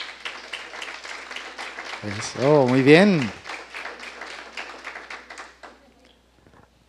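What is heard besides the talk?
congregation applause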